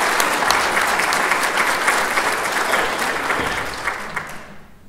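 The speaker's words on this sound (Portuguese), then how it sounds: "Que bom que aplaudiram." Theatre audience at a comedy show applauds warmly, a dense, loud burst of clapping that gradually thins and fades out toward the end.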